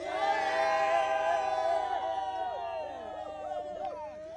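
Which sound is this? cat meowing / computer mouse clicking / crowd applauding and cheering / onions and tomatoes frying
crowd applauding and cheering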